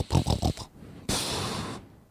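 A voice imitates the snuffling breathing of a sleeping man: three quick nasal snorts followed by one long, breathy exhale. Each sound is close and fairly quiet.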